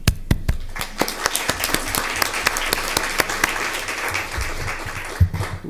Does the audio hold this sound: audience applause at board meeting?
yes